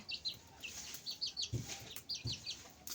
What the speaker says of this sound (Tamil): கோழி குஞ்சு வீட்டுக்குள்ளே போய் சுற்றிட்டு இருக்குது